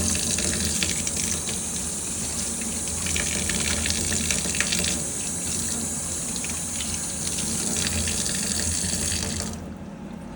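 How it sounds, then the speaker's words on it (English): Cold tap water runs steadily and splashes into a basin while rinsing a coffee machine's mixing bowl for several seconds, then the flow stops abruptly near the end. "we're going to give it a good rinse under cold water"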